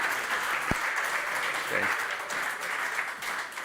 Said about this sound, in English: a big round of applause goes to you